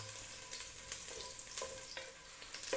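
Ginger, then garlic, sautéing in a pan, a soft continuous sizzle with light scraping stirs at intervals, fairly faint and close, no talking.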